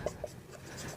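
A pen writes an answer on paper during a class 10 Sanskrit lesson, giving a faint, brief scratching over about a second of quiet room tone, with no voices.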